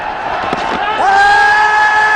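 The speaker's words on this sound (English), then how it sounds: "Crowds have come alive." Loud crowd roar fills a cricket stadium as a batsman strikes a boundary in an India versus Australia match, swelling after a second into sustained cheering with a steady tonal horn-like whistle over it.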